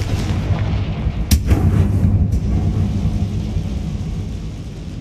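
Fire spell explosions blast in the video game Hogwarts Legacy, a sharp loud crack followed by a second burst and rumbling booms over a dense game soundscape.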